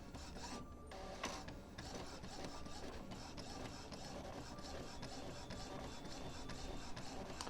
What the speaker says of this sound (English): It's a nice quiet printer though, I really do like it.